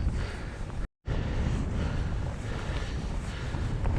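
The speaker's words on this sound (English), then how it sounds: "A bit breezy today," Steady wind buffeting the microphone during a breezy mountain bike ride on a coastal path, a loud continuous rumble with a brief dropout near the start.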